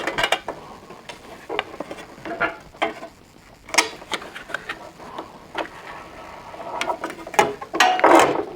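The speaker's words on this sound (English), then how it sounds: "And that'll let me now slide on my washer and nut." A metal washer and nut slide onto the threaded stud of a BMS Sniper T-350 illuminated license plate mount, making a close series of sharp metallic clicks, taps and small scrapes with no talking.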